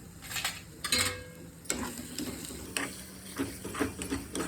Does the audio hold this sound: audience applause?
no